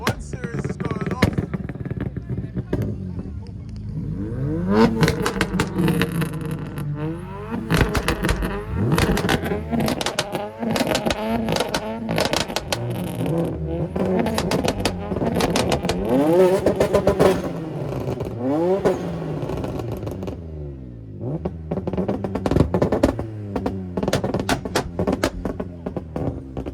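A Mercedes AMG with a 6.2-litre V8 revs repeatedly at a street car meet, with loud rising and falling engine sweeps and throttle blips close by and some background crowd noise.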